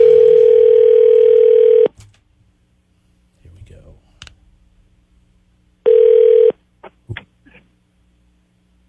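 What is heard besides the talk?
telephone dial tone, dialing and ringing for radio call-in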